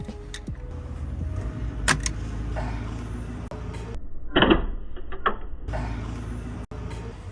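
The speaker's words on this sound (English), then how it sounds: "Gotta chip out all this melted plastic." Scattered scraping, tapping and clicking as melted plastic from a timing cover is chipped off the head of a Honda D-series single-cam engine, close by with background hum and short pauses between strikes.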